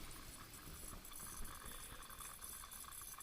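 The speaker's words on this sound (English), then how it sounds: "I've got a water leak" Water from a leaking toilet runs steadily with a soft, continuous hiss and faint trickling, close by and quiet, with no voices over it.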